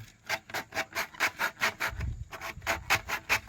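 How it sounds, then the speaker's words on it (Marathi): Repeated rasping cuts through a leaf at a haunted temple, about a dozen rhythmic scraping strokes close by, with no talking. "करुतीचं पान पाहू आणि कापून घेतो मी"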